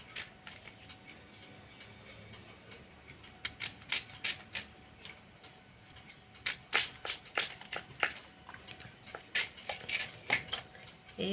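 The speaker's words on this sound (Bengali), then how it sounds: "এবারে এইভাবে আমি গোল গোল করে কেটে নেব" A knife cuts a mango into round slices on a board for year-round pickle, giving a series of sharp, clicky chops and taps that grow busier and louder in the second half, close and dry with no talk.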